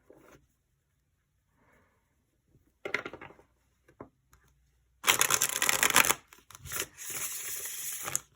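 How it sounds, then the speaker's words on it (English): A tarot deck shuffled by hand, with two dense bursts of riffling and card patter, the second longer and louder, after a few quiet soft handling sounds. "Okay, I'm going to give this like one more good shuffle."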